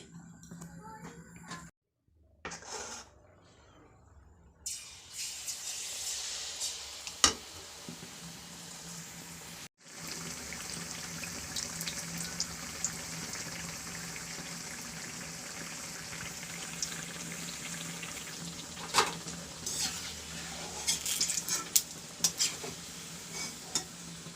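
Flour and sugar batter pithe frying in oil in a wok, a continuous close sizzle with occasional utensil clicks and stirring scrapes, briefly interrupted by short gaps near the start.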